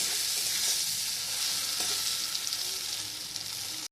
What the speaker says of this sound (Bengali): আমরা তেলের মধ্যে ছড়িয়ে দিব। একটু লাল লাল হওয়া পর্যন্ত আমরা ভাজা ভাজা করে নেব।